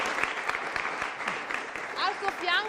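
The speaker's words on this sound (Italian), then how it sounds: "Potete fare un applauso" A studio audience at a Friuli youth music program claps in scattered, uneven bursts while voices speak over it near the end.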